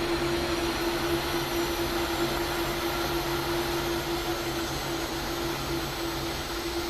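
Boeing 767 with GE engines taking off in X-Plane 11 from Philadelphia, a loud, steady jet engine roar with a constant tonal hum, heard alone without talk.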